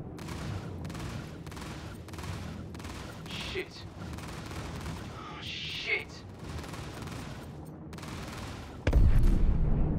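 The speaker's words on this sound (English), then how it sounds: "Switch to guns. Firing." Aircraft cannons firing in a combat flight video game against a Hurricane, several rapid bursts of loud rattling fire separated by short pauses, followed by a heavier booming impact near the end.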